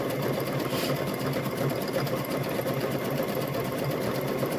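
A sewing machine runs continuously while stitching around the seam of a fabric welding hat, a steady close buzzing whir with an even rapid needle rhythm and no pauses.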